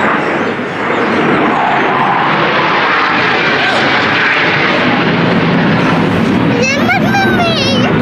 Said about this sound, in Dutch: Dat was een straaljager